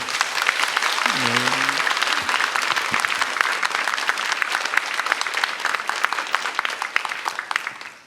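Loud, sustained applause from a church congregation welcoming a missionary from Guatemala at an Easter evening revival service, dense steady clapping filling the room for the full stretch, with a brief voice near the start.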